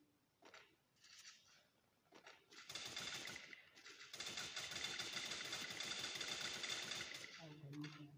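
Rapid bursts of gunfire from a shooting video game, dense and sustained for several seconds after a few sparser shots, with a voice talking briefly before it.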